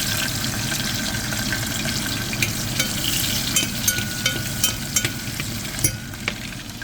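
Chopped onion frying in a pan for Filipino chicken-feet adobo, a steady close sizzle with scraping stir strokes and soft clatters that sharpen toward the end, no voices.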